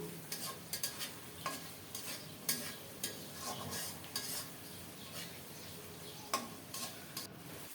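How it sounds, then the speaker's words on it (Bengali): Spice paste with tomato for a rohu fish-head muri ghonto fries in oil under a faint sizzle, while a spatula scrapes and clinks against the pan in irregular strokes, quiet and close. "খুব সুন্দর মতো মশলাটাকে কষিয়ে নেব"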